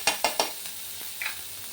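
Onions with crushed garlic fry in a pan, giving a soft sizzle broken by three quick stirring scrapes at the start and a brief clink later.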